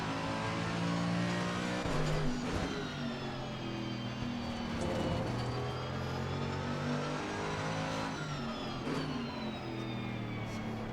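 A race car engine in Assetto Corsa Competizione drones loudly and continuously, with the pitch rising and falling through gear changes and braking into corners, heard alone with no talk.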